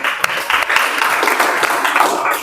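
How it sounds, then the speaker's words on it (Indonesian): A room full of people applauds for a couple of seconds, steady crowd clapping with scattered sharper claps and faint voices underneath. "Terima kasih, tepuk tangan."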